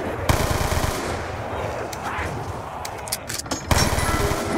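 Full-auto gunfire from Black Ops 2 Zombies on the Buried map runs as a continuous loud rapid-fire stream of close shots, with a brief lull before a renewed burst near the end.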